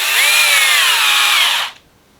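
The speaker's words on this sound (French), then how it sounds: "Alors là, on va prendre la visseuse parce que on en a plusieurs" A cordless screwdriver whirs loud and close, driving a screw into a kart's front axle assembly for about 1.7 seconds, then cuts off abruptly into near silence.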